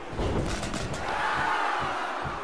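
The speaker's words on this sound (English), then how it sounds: "you just hear the crowd with a collective ow" A wrestling arena crowd lets out a loud collective groan at a kendo stick strike, a broad sustained roar of many voices.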